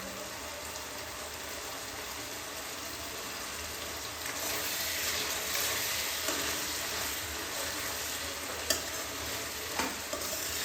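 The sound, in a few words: onions and tomatoes sautéing in a steel pan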